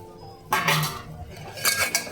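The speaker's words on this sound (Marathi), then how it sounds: "आता आपण झाकण उघडूया" A metal lid lifted off a pot of chicken curry (chicken rassa) on the stove, giving a clattering clink of metal after a quiet stretch, then a second knock of utensils a moment later, close and loud.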